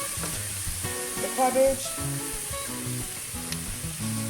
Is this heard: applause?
no